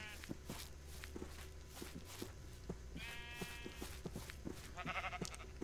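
Sheep bleating in Minecraft, short wavering game bleats heard twice over a steady run of blocky footsteps, moderately loud and close with no talk over them.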